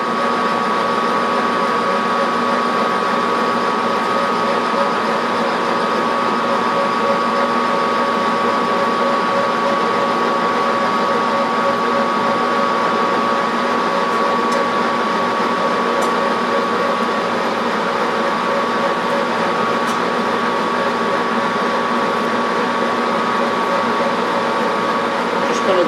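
Metal lathe turning down a steady rest roller to 3/4 inch, a loud, constant motor whine and cutting hum with a steady tonal drone, unbroken throughout.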